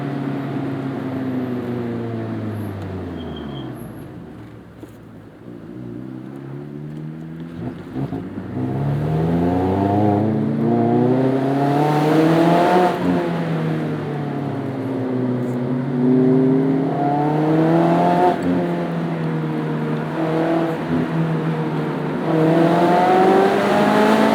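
A Mazda MX-5 Miata's four-cylinder engine running on E85 on a canyon road, heard from inside as it revs up and down repeatedly through gear changes, loud and strained.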